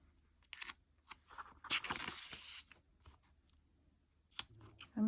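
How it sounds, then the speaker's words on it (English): Scissors snip through paper scraps in a series of close, crisp cuts, irregular bursts with short pauses between them, followed by light rustling of the paper. "I'm going to cut down this little green part"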